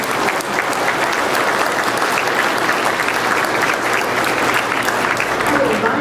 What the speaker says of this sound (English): I would like y'all to give both of those candidates a warm round of applause.